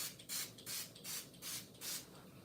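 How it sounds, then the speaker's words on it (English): A rosemary and clove leave-in conditioner spray bottle gives five short, even hissing sprays in a steady rhythm, close and fairly soft, with brief pauses between them. "Rosemary and clove spray."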